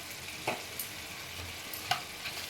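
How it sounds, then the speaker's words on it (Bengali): Spice paste with turmeric and Kashmiri red chili powder frying in oil, a steady close sizzle with a few brief scraping stirs, no voices. "মশলাটা দিয়ে আমি ভালো করে একটু কষিয়ে নেব তেল ছাড়া পর্যন্ত"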